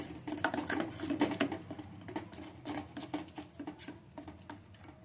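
Salt being stirred into cake batter in a bowl for a bati cake, soft irregular scraping and tapping of a spoon against the bowl, close and fairly quiet, no talk.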